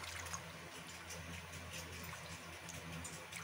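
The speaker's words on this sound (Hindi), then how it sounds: "इसे हम इस पानी में डिप करेंगे।" A small towel dipped into a bowl of salt water, giving a soft, steady liquid swish and trickle close by, low in level and continuous throughout with no talking.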